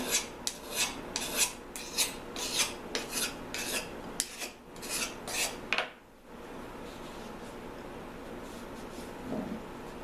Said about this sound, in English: You're going to go in one direction, put a nice edge on there